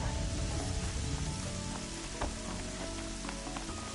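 Steady rain falls in the video game Horizon Zero Dawn, a dense continuous hiss with scattered sharper droplet ticks spread through it. It sits close and even throughout, with no talking.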